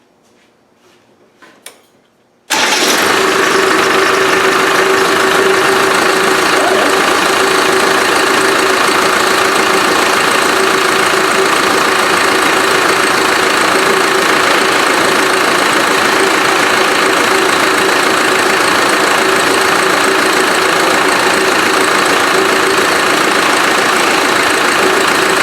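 A 110 engine idles with its turbo spinning, a loud continuous mechanical drone with a steady whine, starting abruptly after a brief quiet moment and running unchanged to the end.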